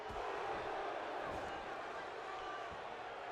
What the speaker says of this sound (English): Xander trying to get the crowd pumped up as Murpho delivers elbows to Reigns